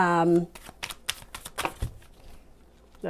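Tarot cards being shuffled in short, crisp riffling bursts, several quick flutters and taps close by, with a voice speaking at the start and end.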